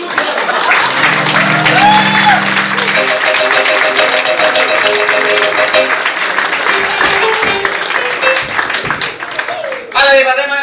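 Theatre audience at an anniversary performance of IGLU teatra clapping across the clip, mixed with tonal music, crowd noise and voices, while a speaker talks over the applause.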